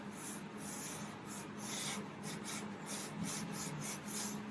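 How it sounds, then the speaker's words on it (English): A wooden jazz guitar body is sanded by hand with continuous scratchy rubbing strokes in a steady back-and-forth rhythm. The sound is close but soft, with no voices. "As you sand, if you listen, you can hear the wood, you can hear your sanding area change as you go."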